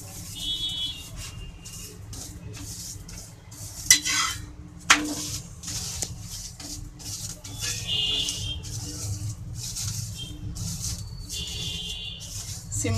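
Onion paratha cooking in an oiled pan, with a soft steady sizzle and intermittent scraping and clinks of a utensil against the pan, plus a couple of sharper knocks partway through, close and moderately quiet.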